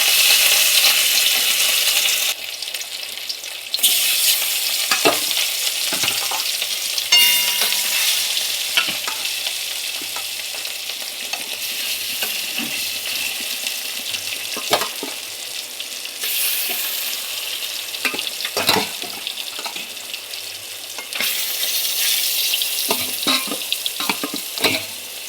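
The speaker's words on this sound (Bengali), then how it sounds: "তো দেখো রুই মাছ এখন দিয়ে দেবো তেলে" Rohu fish pieces hit hot oil in a wok (kadai) for a rohu posto dish, giving a loud, steady close-up sizzle with scattered sharp clinks and stirring knocks throughout.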